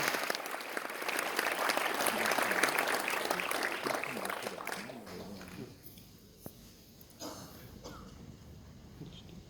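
An audience at a girls' final competition event applauds its judging panel, loud dense clapping for several seconds that then thins out and fades to scattered claps and quiet.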